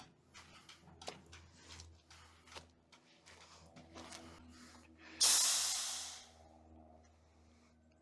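Water rushes into a self-winding retractable garden hose with a sudden loud hissing spray that swells and then fades over a few seconds, following quieter background noise and faint movement.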